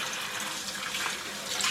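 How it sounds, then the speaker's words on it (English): Tap water runs steadily over raw lobster being washed for jerk seasoning, a continuous close rush of water from a faucet with no talk. "we're gonna wash our lobster"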